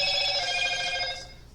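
A phone ringtone sounds alone, a bright steady tone that lasts about a second and a half before fading out.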